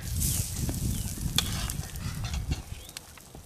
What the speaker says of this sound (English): So we're gonna give it a good flip, smoke some iron.